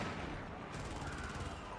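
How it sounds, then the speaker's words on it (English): A vehicle-mounted autocannon fires in the Helldivers video game, a rapid train of repeated shots that starts partway through over steady game noise. "I'm using a vehicle-mounted auto cannon."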